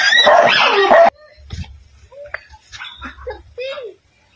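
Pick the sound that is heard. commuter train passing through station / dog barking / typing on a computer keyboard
dog barking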